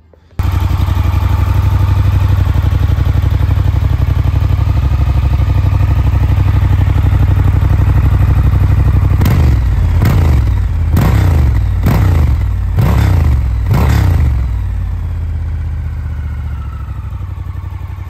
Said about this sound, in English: or hear what the exhaust sounds like.